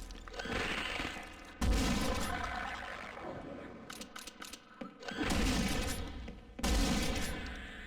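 Bursts of gunfire in Brutal Half-Life, a friendly-fire moment, arriving in dense clustered volleys with mechanical clatter between them, loud and close.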